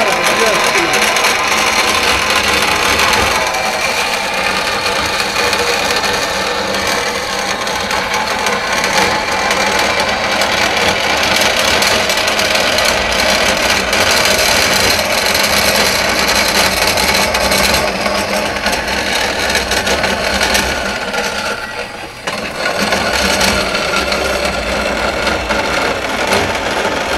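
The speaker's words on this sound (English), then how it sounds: "now we're using the bandsaw, and we're just going to try to saw along the lines" A bandsaw cutting out an EGR block-off plate in a workshop, a loud continuous whining buzz of blade through metal held almost unbroken, dipping briefly near the end.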